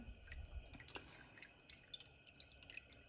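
Coffee-dyed paper lifted out of its bath lets liquid drip back down, a scatter of faint, soft drops falling irregularly over a quiet background.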